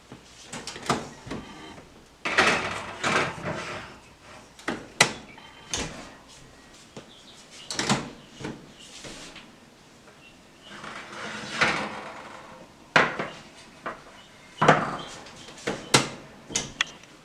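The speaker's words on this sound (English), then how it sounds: "We're going to pop these in the oven for about 20 to 25 minutes" A baking tray of mini biscuits goes into a kitchen oven with several sharp metallic clunks and knocks, like tray and oven door handling, spread across a quiet room with short gaps between them.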